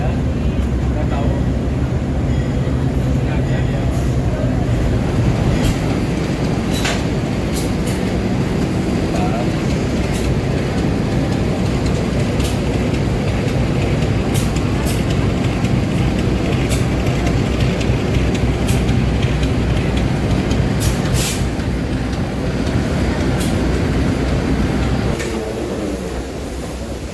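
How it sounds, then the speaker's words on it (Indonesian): A Sangkur train on the Banyuwangi to Bandung route pulls into Bandung station with a loud, continuous rolling rumble. Sharp metallic clanks and squeals recur above the din, which eases near the end. "sekarang kita udah di stasiun Bandung"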